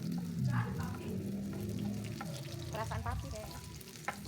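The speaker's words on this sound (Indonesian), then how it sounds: "Jadi kita goreng berbarengan dengan bawang merah." Eggplant and shallots fry in hot oil with a steady, soft sizzle and crackle, punctuated by light bubbling pops and a quiet scrape, faint and continuous throughout.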